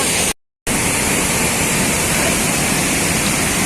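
Loud, steady roar of the Valasampeta waterfall at KD Peta, a dense continuous rush of water close by, briefly cut out near the start.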